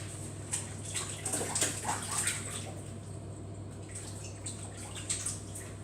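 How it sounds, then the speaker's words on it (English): Hands being washed under a running tap in a home kitchen while baking a cake, soft splashing and rubbing over a steady low background hum. "Wash hands again."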